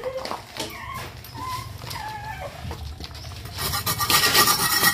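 Moss is scraped off a cement wall with a steady close-up rasping that grows brighter and louder toward the end, while birds or chickens call in the background.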